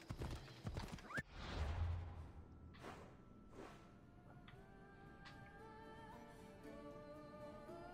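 Horse hooves clip-clop steadily while riding in Assassin's Creed Odyssey, a brief whinny near the start, hoofbeats continuing at moderate level under faint ambient game sound.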